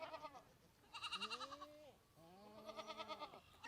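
Goats on a farm bleating in a few drawn-out, wavering calls, close and fairly loud, separated by short quiet gaps.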